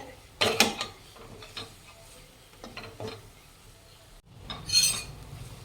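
A spoon mixes garam masala powder into fried masala in a metal pan for Marathi katachi aamti. A few sharp scraping clinks stand out over a quiet background, with a louder clatter near the end.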